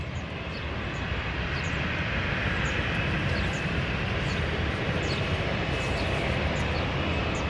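An airliner departing Lisbon Airport gives off a loud, sustained engine roar that swells slightly and holds steady throughout, with no voices over it.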